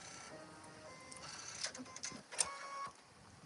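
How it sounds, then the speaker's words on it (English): An embroidery machine stitches out flower petals on a card case project, giving a faint, steady mechanical whir with light rapid ticking and a few sharper clicks, heard alone with no talking. "we've got a few minutes where it's going to stitch out the petals for our flowers"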